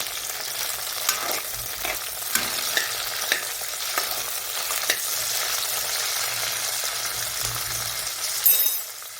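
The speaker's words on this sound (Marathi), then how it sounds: "मी फिक्की मिरची घेतलेली आहे आपण ह्याला परतून घेऊया जरा" Green chillies sautéing in a pan for Maharashtrian thecha, with steady frying sizzle throughout and repeated scraping and clinking of a spatula stirring them.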